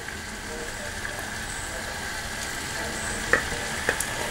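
Chicken frying with curry leaves and black pepper, giving a quiet continuous sizzle with a couple of sharp utensil taps near the end.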